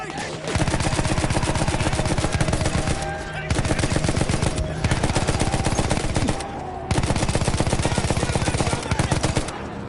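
Sustained loud machine-gun fire in the World War I shooter Battlefield 1, long rapid bursts broken by two brief pauses, with battle noise throughout.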